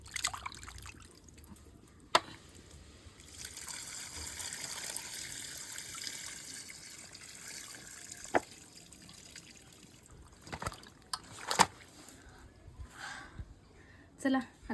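Water splashes and trickles over 3 kg of raw chicken being washed outdoors in a village kitchen, a steady wet rinsing with a few sharp clatters and splashes, speech tagged though no words come through.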